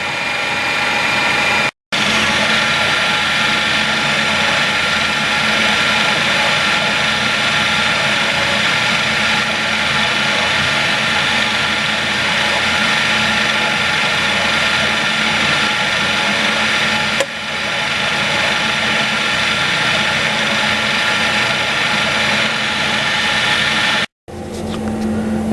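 Steady, loud machining noise of a metal engine mount for an Abarth X1/9 being cut, a continuous broadband whir with a faint low hum, running unbroken apart from two brief dropouts.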